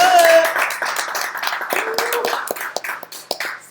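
A few people on a live-streamed podcast clap in a loose, sparse rhythm under overlapping voices and brief vocal sounds.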